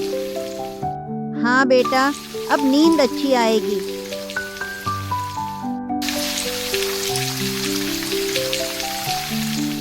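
Rain falls on a roof as a soft, steady hiss with scattered drips, rising in the latter half beneath gentle melodic music, with a voice speaking over the start.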